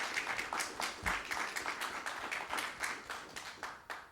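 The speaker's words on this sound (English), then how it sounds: "I think he should have a special applause to organize the whole day today" A modest audience at a talk on Welsh independence gives a fairly quiet round of applause, individual claps distinct and rhythmic, sustained at a soft level throughout.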